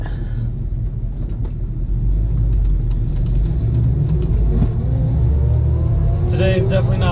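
A 1970 Chevrolet Nova's engine rumbles at a low, steady idle on a cruise, the deep drone constant and close, with faint clicks and light rattles on top.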